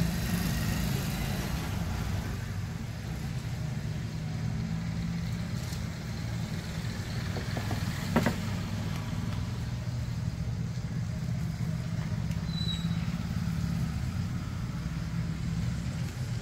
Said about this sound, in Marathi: रोडमुळे ना खूप रोडचा गाड्यांचा आवाज येतो